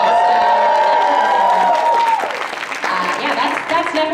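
A large convention crowd at a comic con Q&A screams, cheers and applauds in a dense, sustained roar that dips briefly, then swells again, loud and close, with whoops rising above the clapping.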